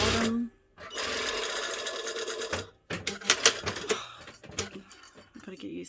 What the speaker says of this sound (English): The sewing in this area isn't as important, so I'm going to go all the way along the bottom.